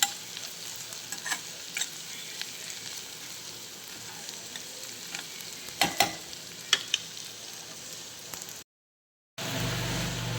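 Hand-crushed cumin seeds frying in a pan, a steady sizzle with scattered crackles and stirring scrapes, cut by a short silent gap near the end.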